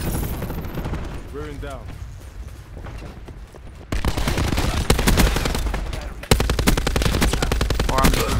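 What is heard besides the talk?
gunfire from Black Ops 4 video game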